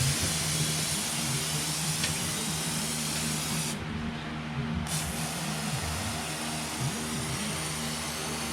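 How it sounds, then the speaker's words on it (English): Brake cleaner sprays from an aerosol can onto a Kawasaki FH770D engine as a steady, close hiss that runs for several seconds, stops briefly, then resumes over a low background hum. "I'm going to use a brake cleaner"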